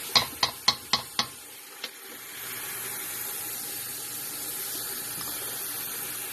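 Tap water runs into a stock pot holding chicken, a steady close rushing stream that follows a quick series of sharp clicks and continues evenly to the end.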